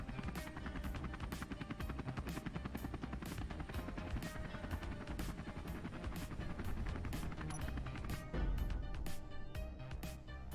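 A game helicopter in Space Engineers drones steadily with rapid rotor chop, loud and close, holding the same dense pulsing rhythm for the whole stretch with no talk over it.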